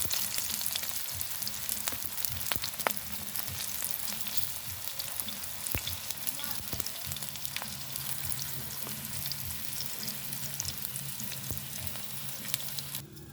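Dried fish, salted daing, sizzles steadily in hot oil in a frying pan, giving a dense and continuous crackle close by with no talk over it.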